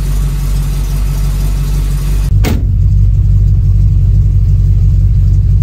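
Engine of a 1936 Chevy running loud and close, with a deep steady low rumble and a sharp knock partway through, then continuing evenly while on a drive.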